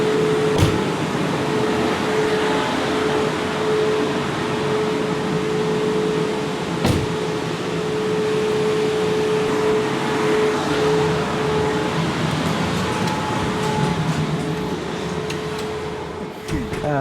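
A constant mechanical whir and hum, like a cooling fan running hard, drones steadily throughout with a faint tonal whine and a couple of clicks, from a Tesla's battery cooling during a battery health discharge test.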